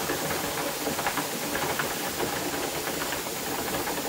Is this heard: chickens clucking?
no